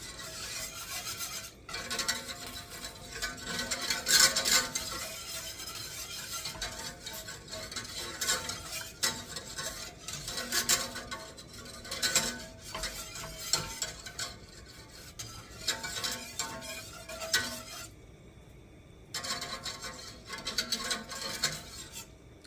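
A spoon scrapes and stirs kimchi sauce made with sugar in a pot as it thickens. The stirring strokes are steady and repeated, with soft metallic rasps and faint sizzling. The sound is close and continuous, with no talk.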